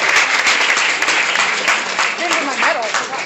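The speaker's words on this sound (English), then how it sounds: "Give them a round of applause." Audience applause fills the room, a steady dense wash of clapping from a crowd at a presentation, with some voices mixed in beneath it.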